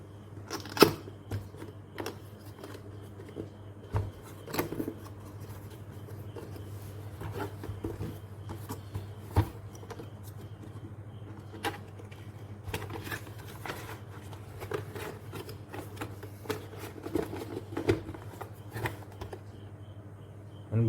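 An Airtel DTH HD set-top box is unboxed with soft scattered clicks, taps and rustles of packaging and parts over a steady low hum, close and quiet, with no speech.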